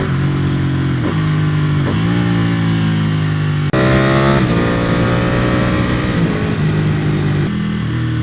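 A Ducati Panigale sport bike being ridden, its engine loud and close, droning steadily with rising revs and an abrupt gear-change jump partway through.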